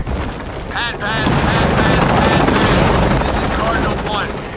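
A helicopter engine stalls in Shadow of the Tomb Raider, a loud, steady mechanical roar with bursts of gunfire-like cracks and booms, while voices call out over the din throughout.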